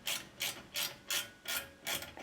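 A wrench ratchets back and forth loosening a bolt on a Honda Civic 10th-gen rear brake caliper, five evenly spaced rasping strokes close by, alone without speech.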